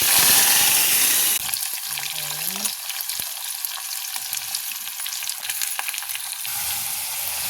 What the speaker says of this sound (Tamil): எண்ணெய் சூடாகிடுச்சு. இப்போ கடுகு, வெந்தயம் கொஞ்சமாக போட்டுக்கலாம்.